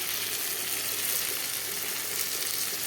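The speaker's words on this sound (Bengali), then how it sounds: "ভালো করে মশলাটা তেল ছেড়ে উঠছে" Spice paste sizzles in hot oil for an egg and dumur (fig) curry, a steady, close, even frying hiss with no speech over it.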